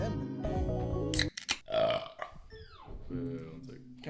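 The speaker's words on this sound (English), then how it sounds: "I just had a great burp" A single loud, drawn-out burp from a man comes right after music cuts off, close and rumbling, followed by a brief quieter tail.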